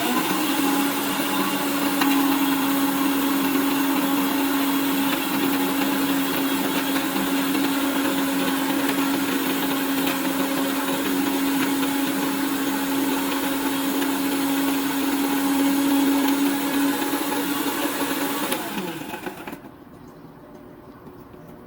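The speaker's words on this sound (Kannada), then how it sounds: "ಮಿಕ್ಸಿಗೆ ಹಾಕ್ಕೊಳ್ತಾ ಇದ್ದೀನಿ ಇದನ್ನು." A mixie grinder blends okra gojju paste in a loud, steady motor whir with a constant high whine that holds for about nineteen seconds before cutting off abruptly into quiet.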